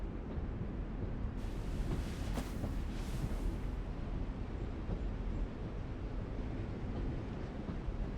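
A steady, loud train rumble rolls on throughout a scene from The Walking Dead video game, a dense low roar with a brief brighter burst of hiss in the middle and no pause.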